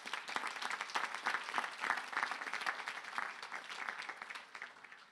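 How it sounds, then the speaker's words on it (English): Audience applauding at the Craven Community College 2022 commencement ceremony, a steady wash of many hands clapping at moderate loudness that holds for several seconds before tapering slightly at the end. "Please give them a round of applause."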